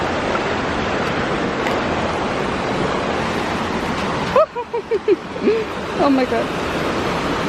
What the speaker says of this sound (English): We made it to the waterfall over there.